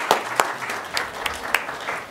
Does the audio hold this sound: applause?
yes